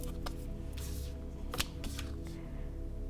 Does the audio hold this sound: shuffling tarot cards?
yes